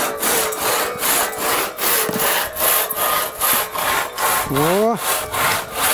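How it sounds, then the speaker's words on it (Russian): Children hand-sawing wood at an Orthodox children's summer camp, the saw rasping in a steady back-and-forth rhythm of strokes, close and loud, with a short exclamation near the end. "Здесь пилят у меня ребята."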